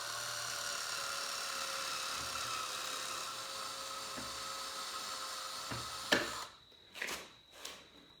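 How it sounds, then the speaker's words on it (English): A cordless drill with a dying battery whines steadily for several seconds, then gives a few short, weakening bursts with gaps between them. "I'm trying to avoid putting in the new battery even though this drill is dying"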